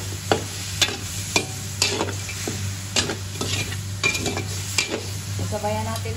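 Squid noodles for black pancit sizzle loudly in a pan as soy sauce goes in, with repeated scraping stirs and utensil clacks against the pan over a constant fry.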